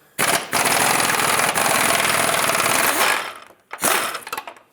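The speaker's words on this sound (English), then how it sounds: "I'm going to try out the swivel with my air gun." Air impact gun driving through a swivel and extension to loosen a steering rack bolt on a 1997-2003 Lexus ES300, firing in a loud sustained hammering burst of about three seconds, then a second shorter burst after a brief pause.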